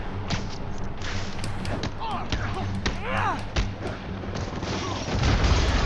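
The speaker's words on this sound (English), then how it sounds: "Yuri, an explosion just... I saw it." An explosion in the Spider-Man Remastered video game lands amid dense rumbling game audio, with booming thuds and crackling bursts, a louder swell near the end, and character voices speaking over the mix.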